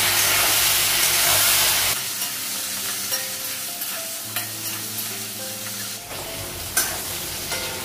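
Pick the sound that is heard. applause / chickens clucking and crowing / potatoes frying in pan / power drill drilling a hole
potatoes frying in pan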